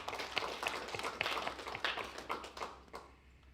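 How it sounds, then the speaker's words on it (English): Applause for sponsors at the opening ceremony of a pro-am championship: a crowd claps in a moderate, uneven patter that tapers off at the end. "Can I get a round of applause for our generous sponsors for this year's event?"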